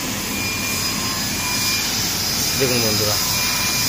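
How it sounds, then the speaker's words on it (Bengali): A CNC laser cutting machine runs while cutting wood pieces, giving a steady, loud, whooshing drone like an exhaust fan that fills the whole clip. Someone speaks briefly over it. "এরকম বন্ধুরা লেজার মেশিন চলছে এখন"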